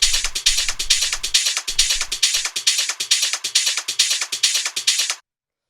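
A super fast, aggressive looping roll in hard rave techno, rapid bright hissy hits pulsing in a pumping rhythm with a few thumping low beats early on, loud and alone until it cuts off abruptly.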